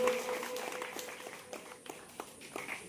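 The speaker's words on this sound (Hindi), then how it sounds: "जोरदार तालियों से स्वागत करेंगे" Applause greeting a guest at an Independence Day flower-offering ceremony, scattered hand claps at moderate distance, thinning out in the second half with some background room noise and faint voices.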